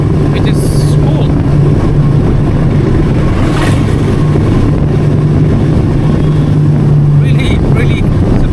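A Suzuki V-Strom 250 motorcycle cruises in fifth gear on a city road, its engine a steady low drone under heavy wind rush, with faint traffic sounds passing.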